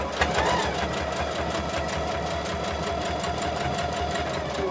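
A sewing machine stitching fabric for a small hand-sanitiser gel pouch runs in a fast, steady mechanical rattle throughout, close and fairly loud, with no pauses.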